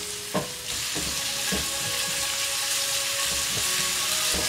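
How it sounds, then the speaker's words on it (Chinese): Tofu cooking with white jade mushrooms and chili bean paste in a wok, a steady loud sizzle of frying oil broken by regular scraping strokes of a spatula, about one every second, with no talk. "继续翻炒半分钟，"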